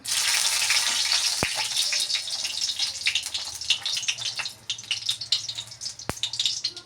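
Two dry red chillies fry in a kadai with a steady, hissing sizzle that turns into irregular crackles and pops, with a couple of sharp clicks.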